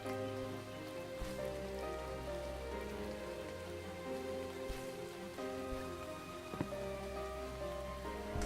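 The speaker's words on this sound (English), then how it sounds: "I am hearing a lot of rain." Steady rain in the video game Starbound falls throughout, a dense hiss of drops with a low droning tone underneath and a few brief clicks, no voices.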